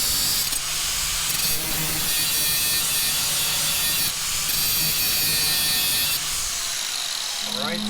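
A power cutting tool grinds through a metal pedal part for an LS V8-swapped Honda Accord, giving a loud, continuous, close high-pitched buzz with brief dips in pitch, running for several seconds before stopping.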